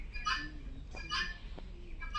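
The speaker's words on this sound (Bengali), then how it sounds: "এই যে কিছু কালিম পাখি আছে এখানে" Purple swamphens calling at a small zoo in Savar, a few short nasal honking and squawking calls in quick bursts over a low background hum, fairly close, with no talking.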